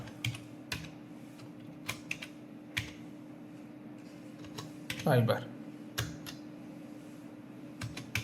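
Rapid clicking of keys on a computer keyboard, close and continuous, with a louder clatter midway through and faint room noise beneath.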